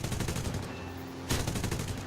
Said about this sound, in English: Let's fire off a few warning shots, see if we can hit him.